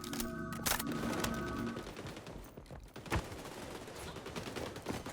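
Rapid gunfire from the shooter XDefiant, with dense bursts of shots and a sharp loud crack near the middle, played over continuous game noise and a brief musical tone early on.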